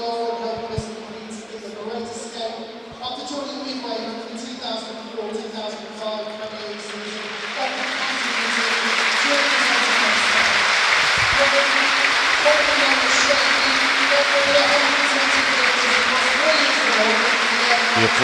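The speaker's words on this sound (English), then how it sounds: "There'll be a minute's applause before the game starts for Craig Shakespeare and Kevin Campbell" A stadium crowd at a West Brom versus Leeds football match breaks into a sustained minute's applause, the dense clapping swelling in and holding steady after a public-address announcement and distant crowd noise.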